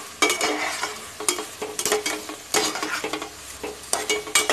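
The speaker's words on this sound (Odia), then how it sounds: "ଚାଉଳଟାକୁ ଅଳ୍ପ ସମୟ ଭାଜିବା।" Rice being fried in oil for pulao, stirred with a spoon in a pan: repeated scraping and rustling strokes over a steady sizzle, close and fairly loud.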